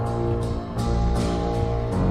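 Brooding orchestral theme from a Batman film score, a dark repeated four-note figure with sustained low strings and brass swells, loud and continuous with no talk.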